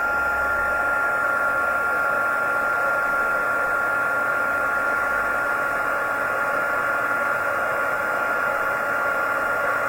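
A heat embossing tool on its hot setting blows steadily, a constant loud hissing whoosh of air with an even drone and no pauses.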